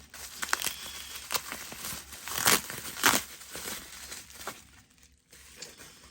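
An HO scale model train being cut out of its packaging, making intermittent crinkling, scraping and tearing sounds of plastic and cardboard, fairly close and moderately quiet.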